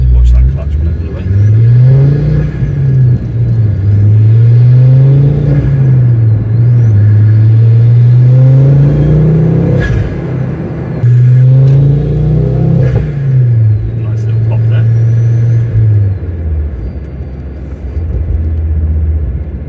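A Ford Focus ST Mk2 with a Dreamscience Mod X map pulls away and accelerates through the gears, revs rising and dropping between shifts, loud and close from inside the cabin.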